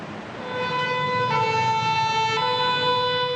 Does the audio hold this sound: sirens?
yes